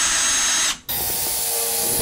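Drill boring a 14 mm hole into very hard old wood, a loud, steady high whine up close that cuts out for a moment and then resumes at full strength.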